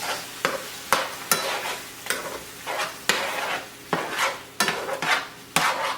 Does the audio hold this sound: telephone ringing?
no